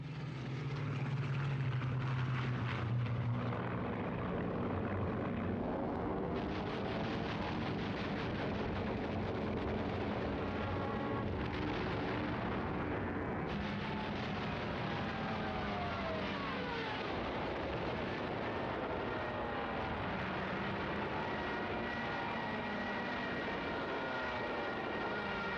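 Soviet and German WWII warplanes in combat: droning aircraft engines roar steadily, joined by rising and falling whines as planes dive and pass, over a dense rumbling background.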